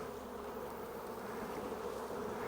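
Bees buzz continuously around a swarm branch, a dense, steady hum of many insects close by with no pauses and no voices.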